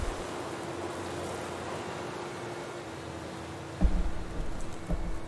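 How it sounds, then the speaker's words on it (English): Steady hissing rainfall in the video game Paradise Lost, a constant wash of noise with a faint low hum, ending in a couple of soft thuds. "Is it raining?"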